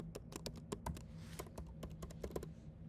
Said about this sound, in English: Like I'm typing